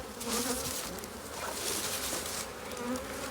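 Honeybees buzz around their hives while bringing in ivy pollen, a dense, continuous hum of many insects close by with individual bees swelling louder as they pass near.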